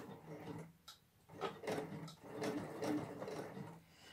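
A sewing machine stitches a neckline facing in short bursts, its needle chattering rhythmically in two or three runs separated by brief pauses, fairly close and moderately loud.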